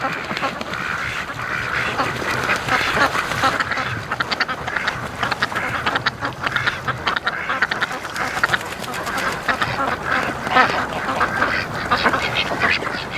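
Free range ducks quack by a creek, a busy chorus of repeated quacks and honks close by, continuous throughout with no talk over it.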